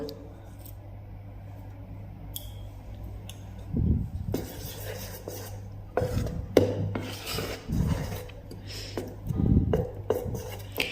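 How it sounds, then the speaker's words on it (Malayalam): Salt being stirred into semolina appam batter, heard as a series of close, uneven scraping and rasping strokes that come in short bursts with quieter pauses between them. "ഇനി ഇതിലേക്ക് പാകത്തിനുള്ള ഉപ്പും ചേർത്ത് ഇളക്കി വയ്ക്കാം"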